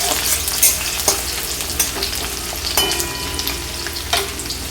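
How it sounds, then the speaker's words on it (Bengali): Chopped onions fry in oil for a duck curry with a constant crackling sizzle, broken by several clacks and scrapes as they are stirred in the pan. No one speaks. "পেঁয়াজটা হালকা আমি লাল করে ভেজে নেব।"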